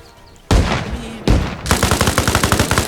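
Loud bursts of automatic gunfire in Arma Reforger in rapid, evenly spaced shots, with a short pause between volleys before a longer sustained stream of machine-gun fire.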